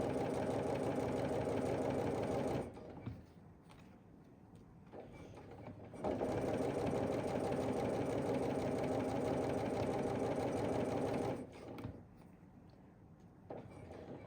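A sewing machine stitches along a drawn line on a fabric pumpkin at a quarter-inch seam, running at a steady, moderate pace in two long sustained runs separated by a brief pause, with no talking.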